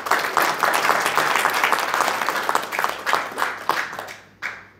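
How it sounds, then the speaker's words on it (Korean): Audience clapping at a political lecture in Gwangju to welcome a member, a steady round of applause that thins into scattered claps and stops near the end. "원대희 아미고님 박수로 좀 격려해 주십시오"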